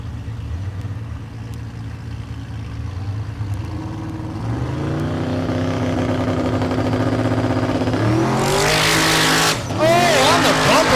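A drag race car at Mid America Dragway in Geuda Springs, Kansas, starts as a low engine rumble and builds to a loud rising roar at launch, with a tire screech near the end.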